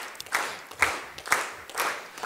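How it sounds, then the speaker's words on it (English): An audience at a Father's Day church service claps in a slow, regular rhythm, about four or five evenly spaced beats, each a sharp burst of many hands that fades before the next. "Keep clapping."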